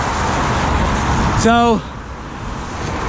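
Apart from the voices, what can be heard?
cars driving past on road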